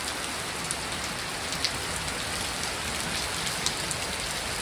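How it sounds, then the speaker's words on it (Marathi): Heavy unseasonal rain pours steadily in coastal Ratnagiri, Konkan, after a windstorm. A dense, even hiss of downpour on surfaces fills the whole stretch, with a few sharper drips standing out. "आता पाऊस आहे ना एकदम जोरात सुरू झालेलो आहे"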